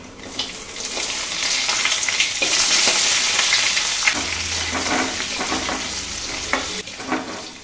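Onion, mustard seeds and curry leaves with dried red chillies crackle and sizzle steadily in hot oil for a vegetable pachadi tempering, with stirring scrapes and faint pops rising and falling throughout, close and fairly loud, no voices.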